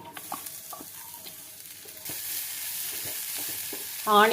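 Chopped onions hit hot oil in a pan while cooking garlic chicken; faint scrapes and stirring clicks give way to a steady hiss of frying that swells louder near the end.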